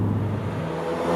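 A 2016 Ford Focus RS with 350 PS accelerates from about 2,500 rpm, its engine a loud, close, rising growl heard inside the car for a brief moment.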